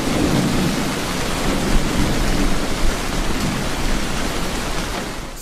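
Heavy monsoon rain pours down in Lahore, a dense, loud, unbroken hiss with low rumbles of thunder rolling underneath, and no voices.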